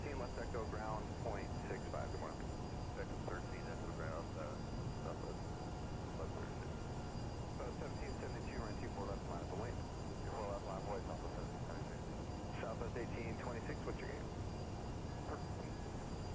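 Steady jet engine drone from a CRJ 550 regional jet in a flight simulator runs continuously, with someone talking over the constant roar.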